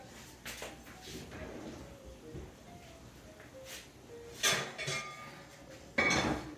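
Cast iron pans clank and knock in a home kitchen, several sharp metallic hits scattered among quieter clinks and low kitchen noise, with two louder clanks near the end.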